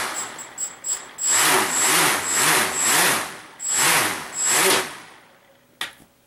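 A drone's ESC-driven motor spins its propeller up repeatedly, giving five loud rising whirring bursts with steady pauses between them, after faint clicks at the start and a brief sharp tap near the end.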